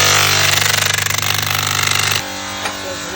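A power grinder works split bamboo strips with a loud, rough, pulsing buzz close by. After about two seconds it drops to a steadier, lighter whine.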